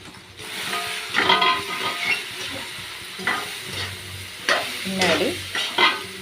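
Spicy tamarind curry sautéing in a pan: continuous sizzle and hiss broken by repeated scraping stirs, near and moderately loud, with a single brief spoken word.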